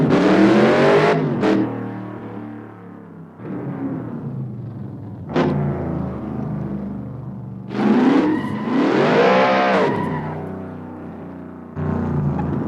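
An electric motor whines in rising and falling pitches, bursts of high whirring that swell and fade several times like a passing vehicle.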